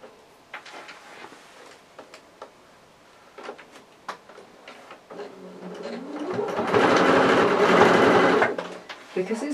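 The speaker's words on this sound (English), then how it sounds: "then we'll sew across there" A sewing machine stitches across a fabric seam on a sewn toy, starting with scattered clicks and handling sounds, then a loud, steady mechanical whir for a couple of seconds before stopping.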